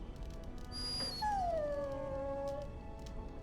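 A dog in the Dragon Age: Origins game gives a single drawn-out whining whimper that slides downward, clear and mid-distance over a steady low ambient background, with no talking.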